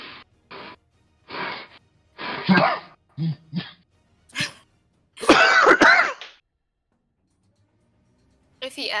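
A person gives several short throaty coughs and throat clearings in separate bursts, close by with near-silent gaps between them, followed by a longer harsher rasping sound.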